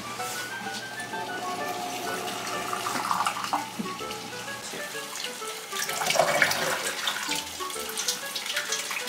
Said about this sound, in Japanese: 一回ちょっとお湯を通す